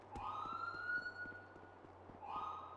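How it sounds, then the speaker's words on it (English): A wailing police siren in a police video game rises and falls steadily, close and loud, with no voices over it. "It's just sirens."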